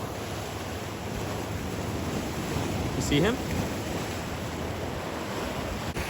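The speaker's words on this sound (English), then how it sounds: "there's obviously a big set of breakers breaking right in front of me here" Surf from a big set of breakers on a Caribbean reef rushes steadily with wind buffeting the microphone, and someone speaks briefly over it.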